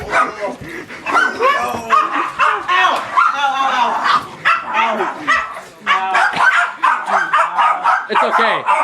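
Dogs bark and yip during a chaotic video game session, their sharp calls mixed in with loud, overlapping talk and shouting from players throughout.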